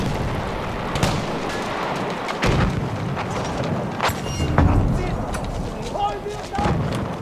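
Grenade blasts in the Battlefield 1 Fort De Vaux map, a series of loud booms and bursts amid continuous battle noise and gunfire, with someone talking over the chaos.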